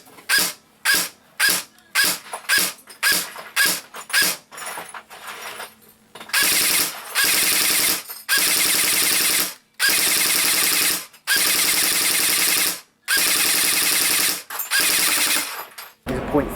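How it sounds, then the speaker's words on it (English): A G&G PCC45 airsoft AEG submachine gun fires outdoors at targets 15 and 30 meters away. Short rapid bursts come first, then long sustained full-auto strings with brief pauses between them, loud and close. "We'll only be shooting at 15 and 30 meters today"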